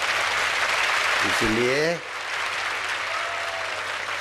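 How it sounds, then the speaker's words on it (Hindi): Applause from a crowd at a religious discourse, dense clapping that fills the space, briefly overlapped by a man's short spoken word, then fading to a softer, steady patter. "अभी ताली बजाओ"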